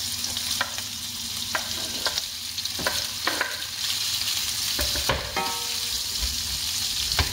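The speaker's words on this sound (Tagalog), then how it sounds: "So mainit na yung ating kawali. Ilagay natin yung ating luncheon meat." Korean luncheon meat sizzling and frying in a hot pan, a steady crackling hiss broken by sharp pops and the scrape of stirring, close and fairly loud with no talk.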